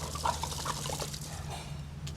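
White wine pours from a bottle into a pot of shrimp stock with lemons, a soft, continuous trickling splash close by over a low background hum.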